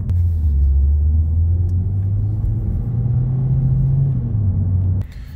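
A Ford Focus or Fiesta with a DPS6 dual-clutch transmission drives along, its steady low engine and road rumble holding close and loud with slight pitch shifts before dropping off near the end.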